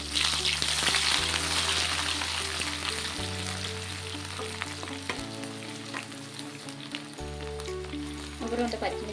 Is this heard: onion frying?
yes